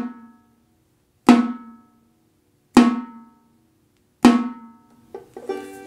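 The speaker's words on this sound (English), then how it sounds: "here is the sound of an 11-inch banjo pot" A muted 11-inch banjo pot tapped three times at even intervals, each a sharp, bright knock with a short ringing decay, followed by a couple of softer taps, close and isolated in silence.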